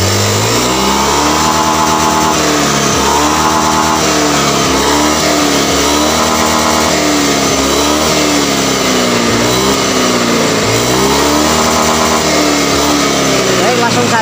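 A Honda Beat FI scooter engine with a hesitation fault is revved repeatedly, rising and falling in steady surges over a continuous loud running drone, close by.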